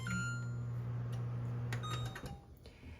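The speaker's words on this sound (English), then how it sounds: "So you first press on microwave, then you press on select your time, and start." A microwave oven on a Korean smart-home kitchen appliance hums steadily after being started, with faint button beeps and clicks near the start; the hum cuts out after about two seconds and leaves light clatter.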